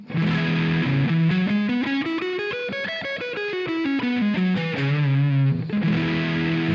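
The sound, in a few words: distorted electric guitar pentatonic lick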